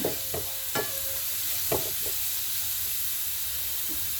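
Garlic frying in a pan for Chinese egg chilli, a steady hiss under several sharp scraping strokes of a spoon stirring close by, no speech.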